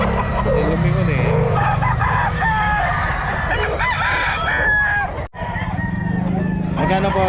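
Roosters crow loudly and repeatedly at the crowded Bocaue pet market, overlapping one another amid clucking, constant crowd chatter and people talking nearby.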